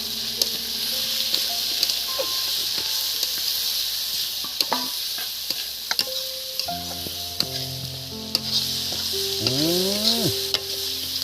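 Chicken fries with black pepper and is stirred in a pan, producing a loud continuous sizzle. Sharp spatula clicks and scrapes punctuate it, and people speak briefly near the end over the frying.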